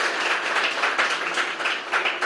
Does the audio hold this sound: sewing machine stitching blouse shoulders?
no